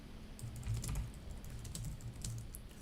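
Rapid, steady typing on a computer keyboard during a live day-trading stream, with close, dense key clicks continuing throughout and no talking.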